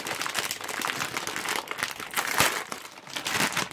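Packing tape pulled off a cardboard box during a graphics card unboxing, a long continuous crinkling and tearing rasp that runs nearly nonstop at close range, with a few sharper rips along the way.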